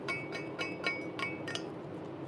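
A flashlight butt is used as a chipping hammer on weld slag, giving a steady series of light metallic taps and clinks, fairly faint against a low background hiss, with no one talking.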